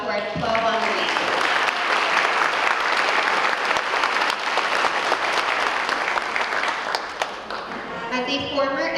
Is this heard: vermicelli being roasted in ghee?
no